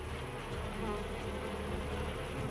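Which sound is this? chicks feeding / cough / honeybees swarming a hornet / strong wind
honeybees swarming a hornet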